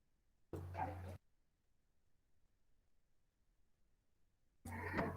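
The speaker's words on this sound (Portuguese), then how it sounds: "Vocês estão ouvindo aqui o meu cachorrinho na rua, né, que está latindo nesse momento." A small street dog outdoors barks in two short bursts separated by a few seconds of quiet, fairly distant and moderately loud, with no talk over it.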